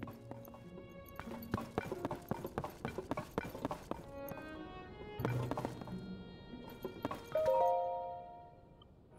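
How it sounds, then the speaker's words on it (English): A horse's hooves clip-clop in rapid, irregular steps in Zelda: Tears of the Kingdom, close and fairly loud, with a rattle and a short musical chime among the steps. "Golden horse?"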